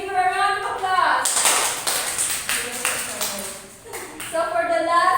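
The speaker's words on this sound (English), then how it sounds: "Let's give her a round of applause." A classroom of students claps briefly for a classmate during a math lesson, a short burst of scattered hand claps with talking just before and after.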